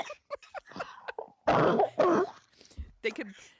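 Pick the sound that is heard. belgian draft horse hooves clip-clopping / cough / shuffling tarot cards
cough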